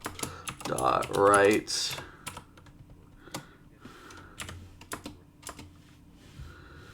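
C# code being typed on a computer keyboard, with rapid irregular key clicks in short bursts, close and clear, and a brief stretch of speech near the start.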